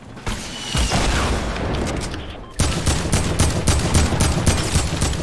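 Rapid gunfire from the video game Fortnite rattles in quick repeated bursts, loud and close, with a brief pause partway through.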